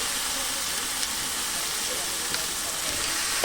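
Boiled elephant foot yam and potato tipped into a hot pan of fried spices for a traditional fish curry: a loud, steady sizzle that hisses on without a break.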